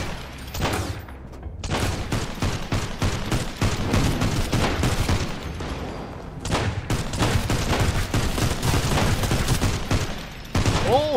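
Rapid bursts of video game gunfire in Sunkenland, dense crackling volleys that fire almost continuously over about eleven seconds with a brief pause, loud and close.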